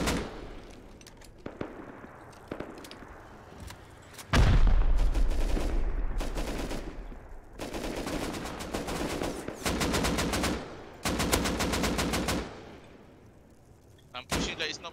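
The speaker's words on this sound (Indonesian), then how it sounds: "Korang kena tembak tu dia." Gunfire in the survival game Rust comes as rapid automatic bursts and single shots, loud and dense in stretches with short pauses, mixed with people talking.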